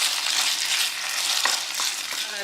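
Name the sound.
beef frying in very hot oil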